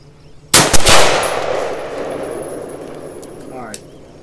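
A PSA 14.5 rifle fires at an outdoor range: a loud close shot followed quickly by a second, then a long rolling echo that fades over several seconds, with a faint clink near the end.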